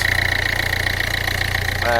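A diesel engine idles steadily close by with an even, throbbing knock and a constant hum, while someone speaks over it.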